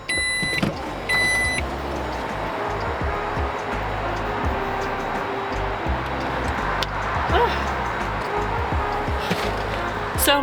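Car interior during a ride, with a steady low road and engine rumble filling the whole stretch, a few clicks and ticks on top, and occasional soft speech.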